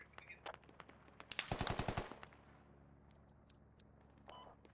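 PKP-Pecheneg machine gun in the video game Squad fires a rapid burst of about eight rounds, with scattered distant shots and faint electronic beeps around it.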